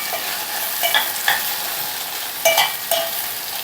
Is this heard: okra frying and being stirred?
yes